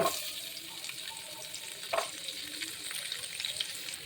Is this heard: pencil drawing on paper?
no